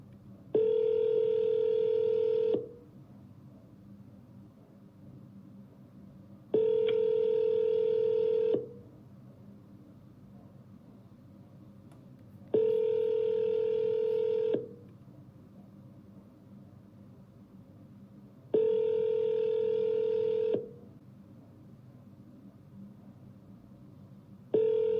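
Phone ringback tone while calling someone, four identical long buzzing rings spaced evenly about six seconds apart, each lasting around two seconds, with quiet gaps between them and no talking.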